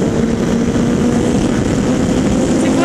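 A motorbike passes by, its steady, loud engine drone holding throughout without a clear rise or fall.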